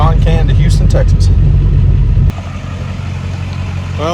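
A pickup truck towing a trailer cruises along a Texas highway, a steady low engine rumble and road drone that drops slightly in level midway, with faint voices and brief tones over the top.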